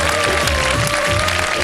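A television studio audience claps together in steady, dense applause with a crowd murmur underneath, loud and continuous for the whole moment.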